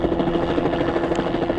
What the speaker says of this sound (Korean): 보호소 상공이 헬기 소리로 시끄러워집니다.